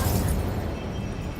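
An Incendio fire spell cast in Hogwarts Legacy, a loud, rumbling fiery burst that erupts at once and slowly fades over a second and a half, with no talking.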